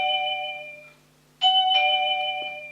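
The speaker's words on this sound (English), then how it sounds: "musical chime, which you can increase or decrease the volume" An AVANTEK waterproof wireless doorbell plays its musical chime as a set of clear, sustained electronic tones. The tones pause briefly, then a second phrase rings out loudly at close range with no talking.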